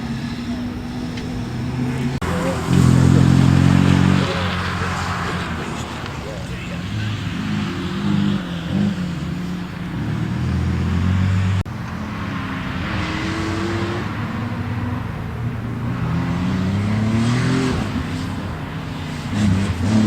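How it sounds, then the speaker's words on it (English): A Volvo PV544 historic rally car driving on the Oulton Park skid pan, its small engine revving and surging loudly nearby, rising and falling as it manoeuvres, with someone talking over it. "Another Volvo PV544. These seem to be very lively little cars."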